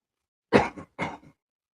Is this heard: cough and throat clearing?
yes